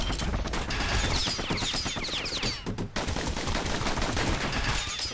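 Rapid, continuous gunfire from two slinger pistols in a video game fight, a dense rattling barrage of shots that stays loud almost the whole time.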